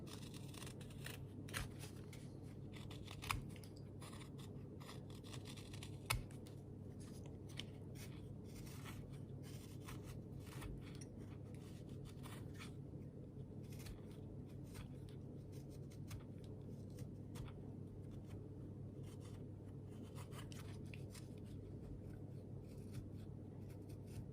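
A hand tool cuts with the grain through timber being shaped into a fishing lure, giving a continuous rasping, scraping sound at low volume with a couple of sharper snaps.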